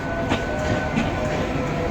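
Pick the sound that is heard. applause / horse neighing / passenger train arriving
passenger train arriving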